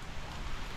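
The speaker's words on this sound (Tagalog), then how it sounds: "Basa. Ulan." Steady rain falling outdoors in a Philippine village, a dense even patter with a low rumble underneath, continuous and fairly close for under a second.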